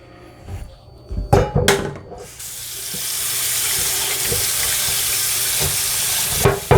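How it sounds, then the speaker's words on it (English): A frying pan washed under a running kitchen tap: a few clunks and knocks, then a steady loud rush of water hitting the pan and sink, close by and with no talking. "I wash my pan"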